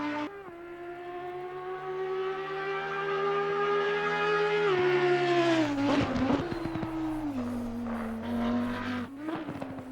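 An Audi R8 LMS EVO2 GT3 race car laps the Misano circuit in Assetto Corsa Competizione. Its loud, steady engine note climbs through the revs, then drops sharply at each gear change and at braking, with no voices over it.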